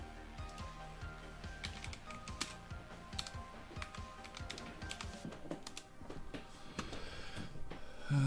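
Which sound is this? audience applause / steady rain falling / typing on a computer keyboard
typing on a computer keyboard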